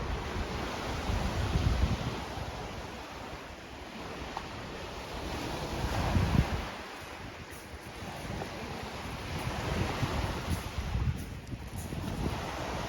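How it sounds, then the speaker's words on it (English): Lake waves wash against a shore at Grand Marais in slow, rolling surges, mixed with gusty wind noise on the microphone; no one speaks. "Just gonna be quiet for a minute so you can hear the waves."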